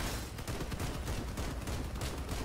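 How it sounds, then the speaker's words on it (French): Rapid, sustained gunfire in the vehicle combat game Crossout, a dense continuous clatter of many shots with no pauses, loud and steady throughout. "Il y a beaucoup de balles tirées."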